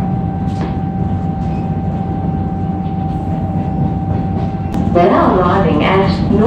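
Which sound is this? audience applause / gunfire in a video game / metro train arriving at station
metro train arriving at station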